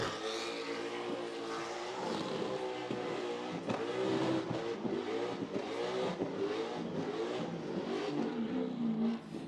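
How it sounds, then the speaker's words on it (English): Burnout car at the Summernats 33 burnout finals, its engine revving hard and steady with spinning tyres on the burnout pad, loud and continuous throughout. "The tyres are off for Paige. He's had to come back onto the Burnout pad"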